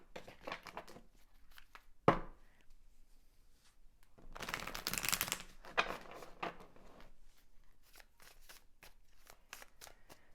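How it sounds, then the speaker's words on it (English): A tarot deck is riffled and shuffled at close range in several bursts, with a longer flurry in the middle and lighter taps and flicks around it. "I don't know why I'm having trouble shuffling this deck."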